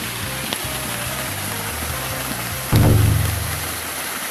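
Waterfall at Takiiri Fudoson shrine, swollen after rain, gives a steady broadband roar throughout that grows louder and heavier partway through, with no voices heard.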